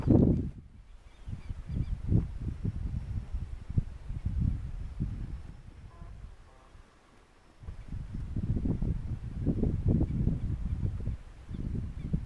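Ducks honk and call in a series of scattered squawks while flying over a rich lagoon, faint and somewhat distant, with rustling in between and a quieter stretch midway.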